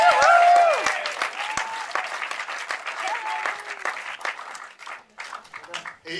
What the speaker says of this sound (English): you have to keep the applause going until he gets here